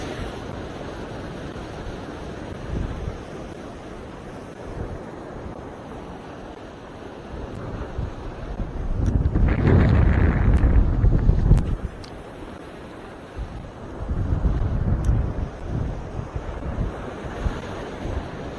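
Waves surge and crash at a rocky fishing spot in Batanes over steady wind noise. A louder swell breaks near the middle, and another rush of surf follows near the end.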